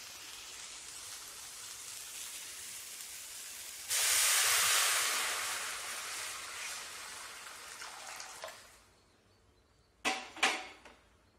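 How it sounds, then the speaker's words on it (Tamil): Water heats in a cooking pot for Arai keerai spinach curry, giving a steady hiss that swells suddenly, then fades away, followed by a couple of sharp clanks near the end. "இப்போ தண்ணி பாருங்கள், நல்லா தளன்னு கொதிச்சிருச்சுங்க."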